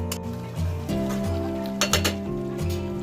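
Metal lid clinks onto a pot of chicken being cooked down, a few sharp close clinks and rattles of cookware over a faint hum, with no talking.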